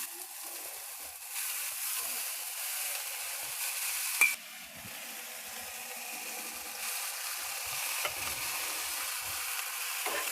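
Chopped carrots, beans and capsicum fry in a pan with a steady soft sizzle, broken by a sharp clink near the middle and occasional stirring scrapes.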